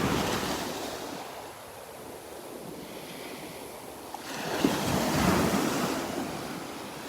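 Waves break and wash onto a sandy beach at Delnor-Wiggins, a soft continuous surf with a fuller surge in the second half, mixed with light wind.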